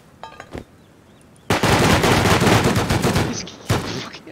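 Automatic gunfire in a video game shooter, a couple of short shots followed by a long sustained loud burst of rapid fire and then another brief burst.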